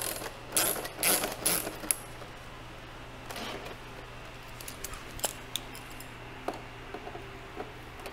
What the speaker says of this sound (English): we've got six T10 Torx that we are going to get pulled out of the back of this thing.